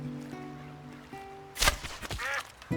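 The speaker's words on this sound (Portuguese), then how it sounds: "Ao cair da noite, acabei encontrando alguns patos." Ducks at nightfall: a low steady hum holds for a while, then a burst of loud nasal quacks and honking calls breaks out close by, followed by a few more scattered calls.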